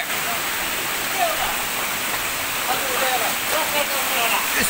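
A waterfall below the mouth of a large bat cave roars with a steady, dense wash of falling water, loud and unbroken throughout, with a faint voice at times beneath it.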